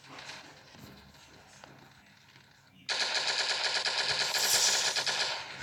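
Automatic gunfire in the mobile shooter game Standoff, first a fainter burst, then a loud, sustained rapid rattle of a 50-round weapon lasting several seconds.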